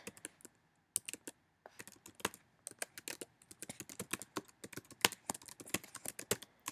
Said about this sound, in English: and then I just type